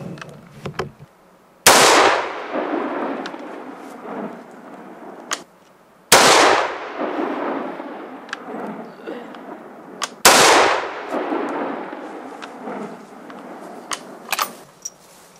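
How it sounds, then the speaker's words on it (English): Three sharp rifle shots from a medium-barrel .308 Win firing factory competition ammunition, each a loud close crack with a long rolling outdoor echo, spaced several seconds apart. "I'm going to shoot with the medium barrel with the factory competition ammunition"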